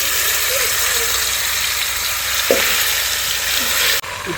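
A whole chicken cooks in oil in a pan, giving a steady, loud sizzle and frying hiss throughout, with a brief clatter near the middle and a sudden drop at the end.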